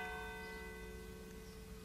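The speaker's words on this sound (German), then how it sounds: "Samstags die Glocken." Church bells ring on a Saturday in the Lower Rhine region, heard as a faint, sustained metallic hum with steady overlapping tones and a soft background wash, distant and quiet without speech.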